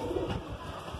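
A rare-coloured Madrasi pigeon with white eyelids, restless while held in a hand, gives one short, low coo near the start, close up and fairly loud, with no talk.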